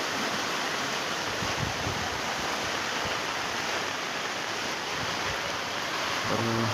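Strong floodwater rushes through a full village drain during flooding, a loud continuous roar with wind buffeting the microphone.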